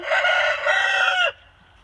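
A rooster by a chicken coop gives one loud, close crow, a strained sustained call that breaks off abruptly, leaving quiet background afterward.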